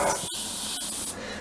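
Airbrush paint spraying onto a model M551 Sheridan tank, a steady close hiss running throughout with two brief breaks in the flow.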